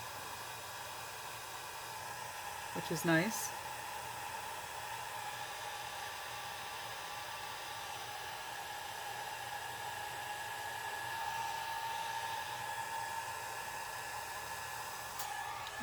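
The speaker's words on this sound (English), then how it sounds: "But with the blow dryer, you can hold it closer to the paper" A blow dryer held close to paper while drying alcohol ink runs as a steady, moderately quiet hum. A short clatter sounds near the start, and a voice speaks briefly.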